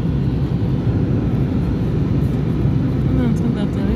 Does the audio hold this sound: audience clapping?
no